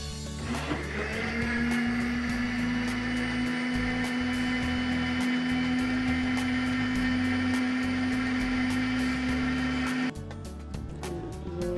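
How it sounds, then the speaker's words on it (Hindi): An electric blender whirring through tamarind and plum sharbat, a loud steady motor drone that runs for about ten seconds and then stops abruptly, leaving quieter room sounds. "अच्छे से ब्लेंड कर लिया हमने"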